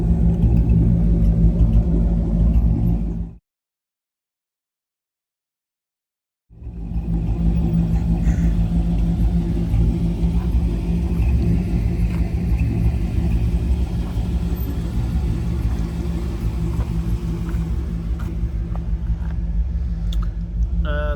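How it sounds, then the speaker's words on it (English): A 1959 Impala's 348ci V8 burbles through dual Flowmaster exhausts, a loud, deep, steady idle rumble that drops out briefly and returns, running on close by. "It's got dual exhaust Flowmasters."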